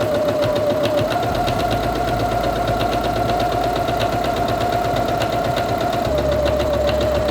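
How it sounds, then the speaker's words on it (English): Singer Quantum Stylist 9960 sewing machine stitching a fabric seam, a loud, close, steady mechanical whir with a rapid rhythmic chatter throughout. "And release the button and continue sewing."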